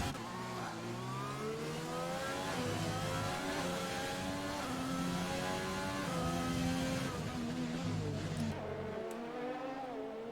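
Several race cars in a racing video game at a Vietnam circuit whine past in close succession, engines rising and falling through gear changes, a dense, loud, continuous layered drone with no voices audible.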